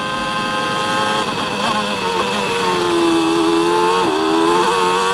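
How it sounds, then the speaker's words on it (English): Onboard engine note of Mika Häkkinen's McLaren with a Peugeot V10 in Formula 1, a loud, steady high-pitched wail that rises and dips with gear changes and throttle, unbroken throughout. "Great sound from that Peugeot V10."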